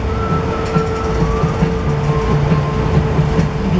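A narrow-gauge railway train hauled by a diesel locomotive rumbles steadily up close, with a continuous low drone, a sustained tonal whine and rhythmic clicking of wheels on the track.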